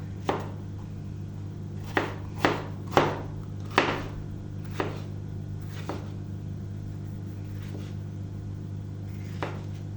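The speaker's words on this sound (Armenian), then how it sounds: "կդրտենք բիբարը, այսպես նեղ երկար" A knife cuts green pepper into long thin strips on a board, giving a handful of sharp, separate chops, loudest early and fading later, over a steady low hum.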